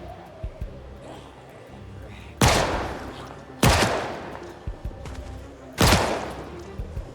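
Three loud, sharp gunshots ring out at spaced intervals in Project Zomboid, fired at slow shambling zombies, each blast decaying quickly, with small thuds and shuffling between them.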